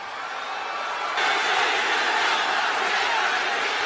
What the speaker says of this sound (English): Are you booing Monday Night Raw?